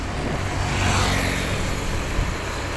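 A motorbike riding along a rural village road near Siem Reap, Cambodia, giving a continuous engine drone mixed with wind and road noise at close range.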